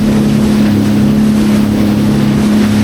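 FishPro Scout fishing boat motoring through waves on Lake Winnebago, a loud, steady outboard engine drone with a strong low hum, plus wind and water splashing around the hull.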